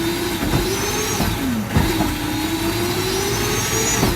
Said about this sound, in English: You can hear that ramp up restarting every single time I hit the gas.